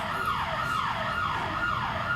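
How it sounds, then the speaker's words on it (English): A door access system alarm sounds in a village board meeting room during a lockdown. Its steady, rising and falling electronic wail repeats without pause. "It's not a fire alarm, it's a access system."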